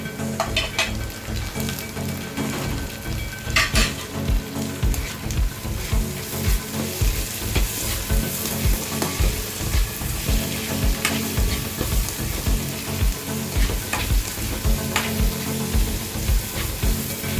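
Chopped ginger and garlic fry with sautéed onions in a pan for a fish-egg roast, giving a steady close sizzle. Rhythmic scraping stir strokes sound over the sizzle throughout, and there is no talk.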